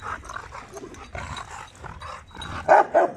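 Rottweiler dogs barking in a dominance standoff, with a busy stretch of growly, scuffling dog noise leading up to two loud, sharp barks near the end, close by.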